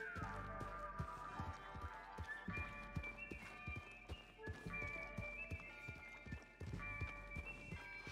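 Steady rhythmic clip-clop of a horse's hooves trotting in a video game under a continuous musical backdrop, with a faint whinny early on.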